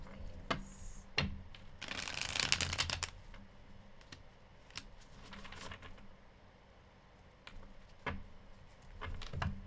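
Tarot cards are shuffled in soft, rapid riffling bursts, one longer flurry in the middle and scattered lighter flicks and taps around it, close and fairly quiet with no talking.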